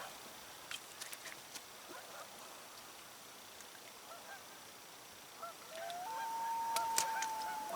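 Geese honking and a loon calling over a lake at a cabin on an August evening, faint and distant honks scattered throughout, then a long wavering loon cry rising near the end.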